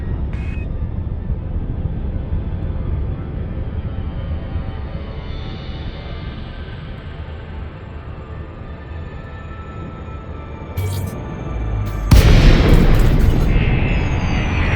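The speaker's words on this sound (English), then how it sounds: "The frameshift drive is disengaged." Frame shift drive of a spaceship disengaging in Elite Dangerous: a long, low rumbling drone slowly fades, then a loud whooshing burst of noise hits near the end and carries on to the close.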